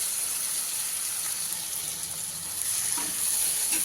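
Bitter gourd and onion curry is stirred in a pan with the heat just turned off and lemon juice added. A soft continuous sizzle runs under light scraping, ending in a couple of louder stirring scuffs, with no talking.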